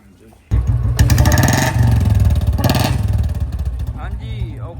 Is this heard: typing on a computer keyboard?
no